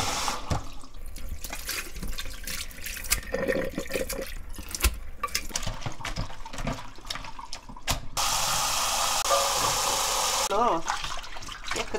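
Blanched butterbur greens rinsed under cold running water in a kitchen sink, a steady close splash and tap flow with handling noises, briefly loudening toward the end, while people talk over it.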